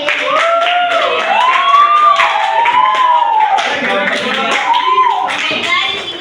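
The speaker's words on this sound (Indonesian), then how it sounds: "Ayo, beri tepuk tangan ke temannya yang sudah berani." Students in a Year 11 high school classroom in Indonesia give a round of applause for a classmate. Steady rapid clapping from the group runs throughout, mixed with loud overlapping voices and cheers.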